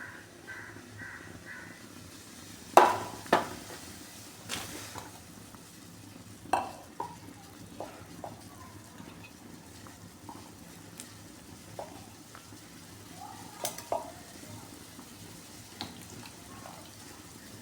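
Chopped onions go into a pan of dal simmering with turmeric and asafoetida for kathirikkai kootu, with soft frying and sizzling and a few sharp stirring clatters, while a crow caws nearby.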